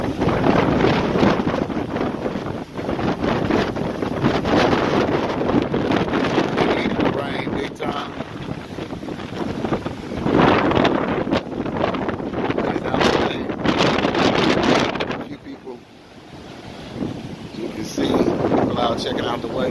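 Ocean waves crashing onto the Dominican Republic shore during Tropical Storm Isaias, heavy roaring surf buried under strong wind buffeting the microphone, continuous and loud with brief lulls.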